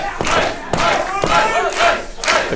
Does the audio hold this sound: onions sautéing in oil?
no